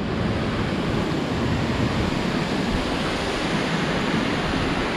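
Steady, loud roar of rushing water at Bandaje Arbi waterfall, heard up close from near the edge, a dense continuous wash with no voices over it.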